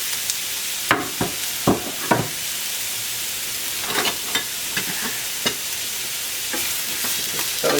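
Finely chopped red onion and celery sautéing in a soup pot, a steady hiss and sizzle with repeated spoon scrapes and taps as the vegetables are stirred, close up and free of talk.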